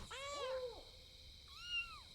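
A kitten in the video game Pentiment gives two close, clear meows, a longer wavering one followed by a shorter rising one after a brief pause.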